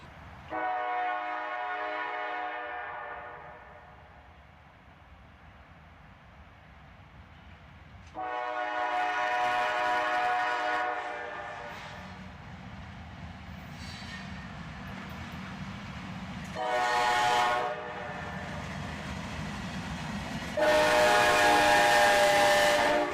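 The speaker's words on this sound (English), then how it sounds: "the tail end of this slow-moving train passes us by with a GATX boxcar here" A slow CSX freight train's tail end rolls past with a GATX boxcar, giving steady rumbling rail noise nearby, while several loud whistle or horn-like tonal blasts rise and fade over it.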